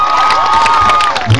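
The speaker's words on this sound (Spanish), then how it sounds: "¡Pero fuerte el aplauso, hombre!" Crowd at a public event in Cancún cheering and applauding loudly, with shouts and whistles over steady clapping in a brief, full burst.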